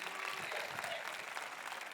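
A church congregation applauds together during a French-language service, a steady, even wash of clapping from a sizable crowd heard on its own without speech.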